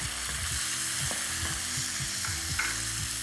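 Onion and tomatoes fry in a hot pot, a dense continuous sizzle with faint intermittent stirring knocks, steady and close.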